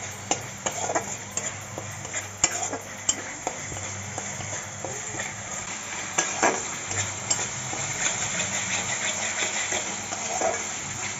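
Spices with turmeric, salt and a little sugar sautéed in a pan for matar paneer, producing a steady soft sizzle with sharp clinks and scrapes of a spoon against the pan, close and alone.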